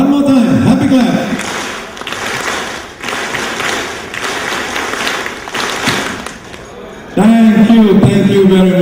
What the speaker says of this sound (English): One more time, happy clap.